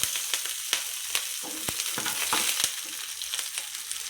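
Onion sautéing with curry leaves and green chillies for an egg breakfast dish, a steady close sizzle with sharp clicks of a spoon against the pan scattered throughout, no voices.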